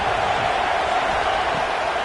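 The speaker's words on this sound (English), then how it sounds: "Decibels rising as the crowd gets behind this defense on third down." Stadium crowd noise in a Madden American football video game, a steady loud roar of fans building behind the defense on third down, continuous and even throughout.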